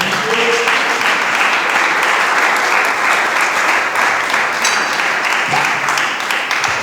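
A church congregation breaks into sustained, loud applause during a Spanish-language sermon, a dense, even wash of clapping that holds steady throughout.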